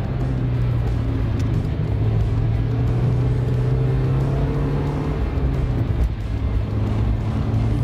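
Mazda MX-5 Miata engine knocking under quarter throttle at about 3500 rpm while climbing hill hairpins, a loud continuous engine drone with steady low harmonics and road rumble throughout.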